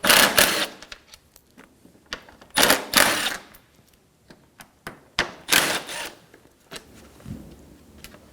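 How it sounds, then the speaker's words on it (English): Socket wrench backing screws out of the top of the radiator fan assemblies on a 2013-2017 Honda Accord, heard as several bursts of close, loud ratcheting clicks separated by quieter handling taps and clunks. "Using a 10mm socket, we're going to remove the screws out of the top of the fan assemblies."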